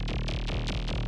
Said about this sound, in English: This is a pluck.